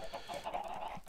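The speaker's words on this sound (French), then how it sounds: "il y a un peu beaucoup de poules" Chickens clucking in Minecraft on a Farmcraft server, a crowded flock of many hens producing overlapping short clucks that run steadily through the moment with no pause.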